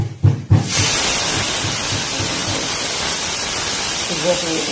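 Pressure cooker venting steam while chickpeas and peas cook: a brief sputter of bursts, then a loud continuous hiss that holds steady to the end.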